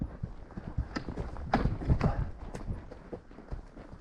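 Horse hooves step through snowy hillside terrain under a rider, giving a series of soft, irregular thuds and clops close by, with a few stronger footfalls in the middle.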